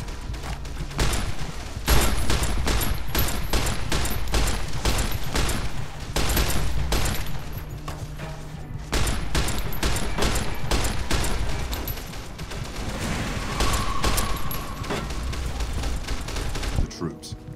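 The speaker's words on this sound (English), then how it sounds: "grab my machine gun" Sustained machine gun fire from the video game Fallout: New Vegas rattles in long, dense bursts with brief pauses, loud and close, with a voice speaking over parts of the shooting.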